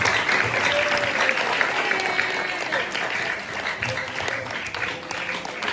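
An audience at an Indonesian talk bursts into loud, sustained applause, a thick wash of clapping hands that carries evenly through the whole stretch, alone without speech.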